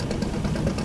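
Fishing boat engine in Fishing: Barents Sea throttling up, a steady low rumbling drone with mid-range throb, brief and close.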